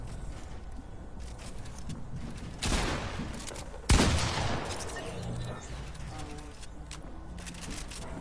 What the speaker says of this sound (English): Fireworks going crazy.